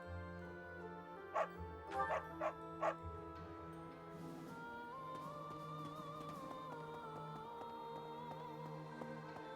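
In the video game Fire Emblem: Three Houses, a dog gives a few quick yips and barks early on, set over soft game music that continues alone afterward.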